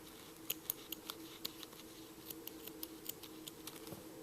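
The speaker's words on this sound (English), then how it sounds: "Same thing with the other strings, just cut them off." Scissors snip loose yarn strings off a crocheted Minnie Mouse beanie: a dozen or so faint, crisp clicks in an irregular rhythm over a quiet room hiss.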